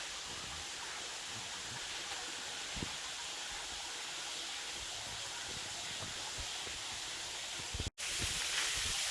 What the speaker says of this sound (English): And here's our little waterfall.